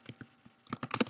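Quick keystrokes on a computer keyboard, a few sparse taps and then a denser burst of close, crisp clicks while text is entered.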